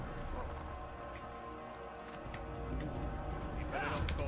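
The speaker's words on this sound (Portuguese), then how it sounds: "dá 3 passos com o cavalo" Horse hooves in the Assassin's Creed video game, a few soft clip-clop steps as the horse walks, sitting under busy game ambience and background effects.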